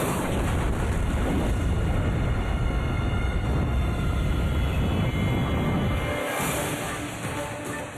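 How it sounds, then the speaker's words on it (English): An experimental jet fighter hovers over an aircraft carrier deck, a loud continuous broadband roar of jet engines that holds steady, then eases slightly toward the end. "An experimental jet fighter hovers over the deck, attempting its first vertical landing ever."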